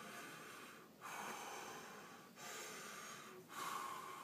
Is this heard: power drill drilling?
no